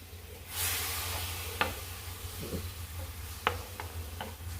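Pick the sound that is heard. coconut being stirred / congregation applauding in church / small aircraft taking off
coconut being stirred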